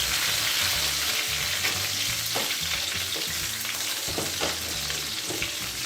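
Stuffed brinjals fry in oil in a pan while being gently turned over, a dense, steady close sizzle with soft scraping and stirring knocks, no voices.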